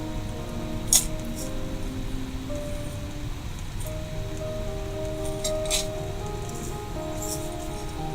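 Sacred salts shaken in a glass jar make a soft granular rustle, with a few sharp glassy clinks scattered through it and faint background noise.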